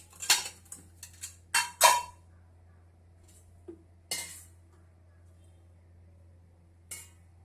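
Utensils clink against a hot tawa as oil is spooned on for shallow-frying fish: a quick run of sharp metallic taps early on, then a few sparse, isolated clinks over a low steady hum.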